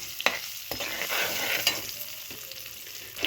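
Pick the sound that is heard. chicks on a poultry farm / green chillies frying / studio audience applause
green chillies frying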